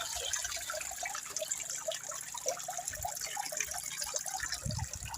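Water runs from a pipe at a village spring, a continuous soft splashing gush and trickle heard quietly and steadily throughout, with a couple of low thumps near the end.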